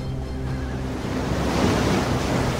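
Waves wash onto a seashore at a frontier coastline, a broad continuous rushing surge that swells louder toward the middle, mixed with some wind buffeting and no voices.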